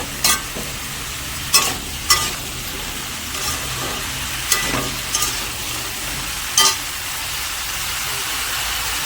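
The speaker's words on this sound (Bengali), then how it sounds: "ভাজা সবজিটা দিয়ে দিয়েছে, নেড়ে নেবো একটু।" Fried vegetables with onion and chilli are stirred in a hot pan, a steady sizzle broken by a few sharp scraping clicks of the spatula against the metal.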